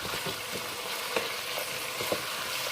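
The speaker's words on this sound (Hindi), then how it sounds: "गोश्त को फ्राई करेंगे" Boiled meat frying in a pan for Kabuli pulao, a steady, loud, close sizzle with soft stirring scrapes over it and no voices.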